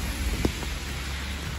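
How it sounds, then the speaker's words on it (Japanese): Rain falls outside a Catholic church in Maebashi, Japan, a steady soft hiss of drops with a couple of brief thumps early on and no speech. "今日は雨ですね。"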